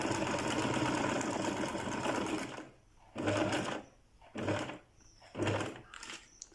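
A sewing machine stitching a seam, a continuous mechanical whir for a couple of seconds followed by three short bursts of stitching with pauses between them, close and clear.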